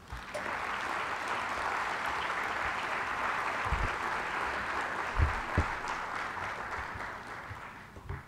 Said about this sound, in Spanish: Recibimos con un cariñoso aplauso al doctor Stephen Griffith